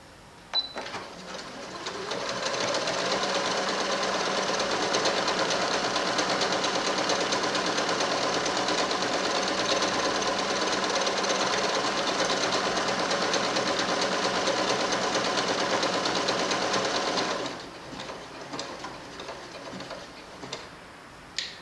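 A Luna sewing machine stitches a one-step buttonhole with a steady, fast mechanical whir that runs about fifteen seconds without talk, then halts on its own, leaving a quiet tail.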